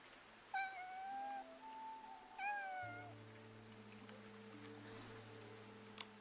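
Two clear cat meows from a video game, close and distinct, followed by a steady low electronic tone and faint rain-like ambience with a few clicks.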